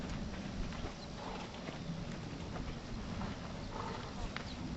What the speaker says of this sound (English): He's a beautiful horse.